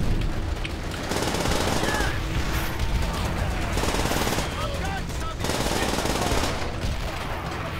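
Call of Duty 5 gunfire in co-op play: loud, dense bursts of rapid machine-gun fire and single shots come in waves, nearly continuous with short lulls between volleys.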